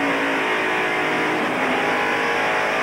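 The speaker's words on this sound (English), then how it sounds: "Back to 96 miles an hour as he accelerates off the corner and the RPM builds" A 1993 NASCAR stock car accelerating out of a corner at the Bud 500, its engine note rising steadily as the revs build. The roar is loud and continuous and close to the listener, with no talk over it.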